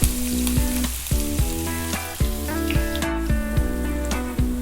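Onion dropped into hot oil with crackled cumin seeds, sizzling and frying in a pan, a steady bright hiss with stirring clatter and musical background tones throughout.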